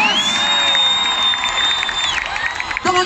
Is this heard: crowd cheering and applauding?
yes